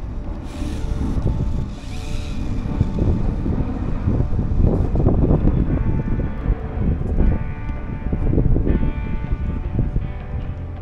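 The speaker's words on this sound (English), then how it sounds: "Really windy today too." Strong wind blows outdoors at a run of a DeeRC H16E radio-controlled car rated at 57 mph, a steady roaring rush buffeting the microphone throughout, with faint mechanical whine and bumps underneath and no speech.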